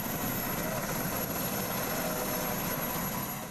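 Pakistan Army helicopters fly over a flood rescue operation, their rotor and engine noise a loud, continuous, droning whir that holds steady throughout with no speech.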